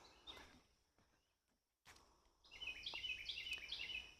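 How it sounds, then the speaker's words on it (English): Birds sing along a forest stream trail in Silver Mine Park, starting as faint, scattered chirps and footsteps, then a near, bright burst of rapid trilling song. "But listen to those birds."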